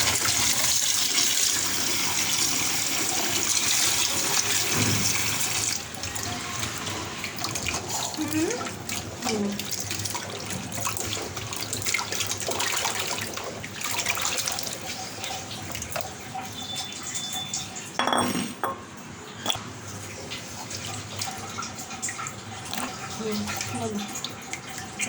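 Running tap water splashes steadily as a pumpkin is washed under the faucet, with a broad, continuous gush and occasional clunks from handling.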